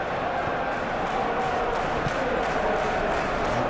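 Simulated stadium crowd at a Manchester United versus Paris Saint-Germain Champions League football game, a steady, dense roar of distant fans filling the whole stretch without pause or peak.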